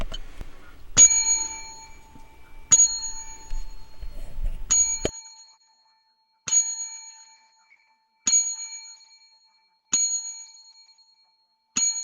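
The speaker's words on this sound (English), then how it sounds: "Let's ring that bell to the roll of 10." A small bright bell rung repeatedly, a run of clear dings with one pair close together near the start, then single rings spaced about every two seconds, each ringing out into silence.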